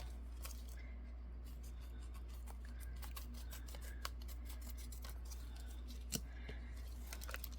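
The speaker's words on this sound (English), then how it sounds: "Those are actually crafting scissors." Small crafting scissors snip in quick, irregular cuts close up, crisp clicks and shears over a low steady hum, with a few sharper snaps near the end.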